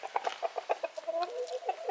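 Chickens cluck nearby in a quick run of short, nasal clucks and murmuring calls, a few overlapping, with no talk.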